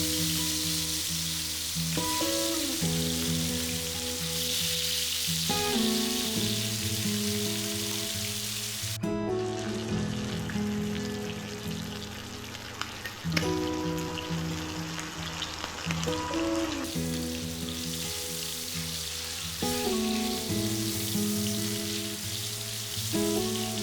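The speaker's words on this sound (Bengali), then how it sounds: "প্রথমে ফ্রাইং প্যানে বেশ কিছুটা সর্ষের তেল গরম করে একে একে ম্যারিনেট করা মাছগুলো এপিট ওপিট ভেজে নেব।" Marinated hilsa fish pieces fry in hot mustard oil in a frying pan, a steady crackling sizzle that continues throughout beneath background music.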